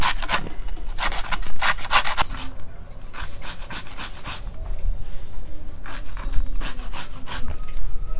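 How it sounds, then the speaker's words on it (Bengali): A radish is grated by hand for pitha, giving bursts of harsh, rasping scrapes in quick repeated strokes, close and loud, with short pauses between bouts. "এই মূলোটাকে একটু ঘষে নেব।"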